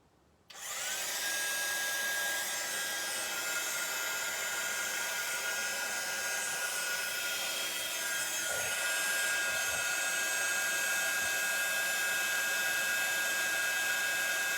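A heat gun used on a stamped card switches on and blows with a steady, loud whirring hiss that continues without a break, with a couple of faint clicks partway through.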